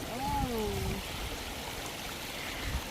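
A clear, cold river flows in a steady broadband rush, with a person's voice briefly heard over the water at the start.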